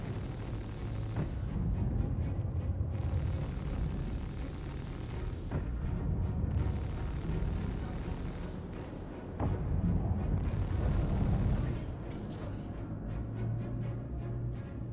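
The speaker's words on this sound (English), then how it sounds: "Bro, who else is shooting me?" Video game gunfire during a firefight near Yela, heard as a dense, loud rumble of shots with sharper bursts standing out every few seconds, continuous throughout.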